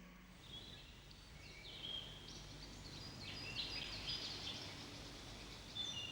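Faint bird song from somewhere in the outdoors, thin high chirps rising at intervals over a steady hiss of rustling ambience, with no one speaking.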